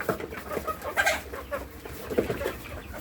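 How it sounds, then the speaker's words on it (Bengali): A flock of 70-day-old Fayoumi chickens clucking and chattering continuously up close while eating, overlapping soft calls with a few sharper notes. "সব মুরগি মোটামুটি খাওয়ার জন্য আসে, কিছু মুরগি আর কি ভয় পায় একটু"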